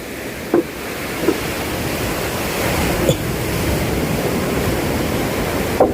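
Steady broadband rush of surf washing on a shore, continuous and fairly loud, with a few brief knocks and splashes standing out.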